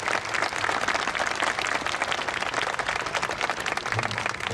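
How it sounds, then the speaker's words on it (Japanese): Audience applause at the close of a Zero fighter engine-start demonstration at the Tokorozawa Aviation Museum, continuous mixed clapping from a crowd, fairly loud and sustained throughout. "拍手をお願いいたします"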